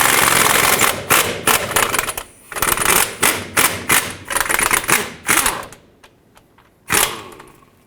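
Bottom 18mm bolt being removed from the front shock of a 2008-2010 Ford F-250: a loud, rapid rattling burst from an impact wrench, repeated in several short runs with brief pauses between and a final burst near the end.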